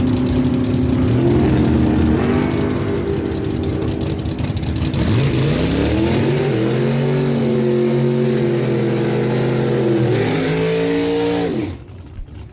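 Drag racing cars launch down the dragway at Miramichi Dragway during a multi-class event, with loud engines revving and pitching up through the gears as they pull away, then fading abruptly near the end.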